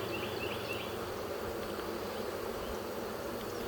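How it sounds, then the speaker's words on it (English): Honey bees buzzing at a hive in a nuc yard, a dense, steady droning hum from many insects close by, with a few individual wingbeats standing out briefly near the start. "The bees are so focused on getting nectar and other resources"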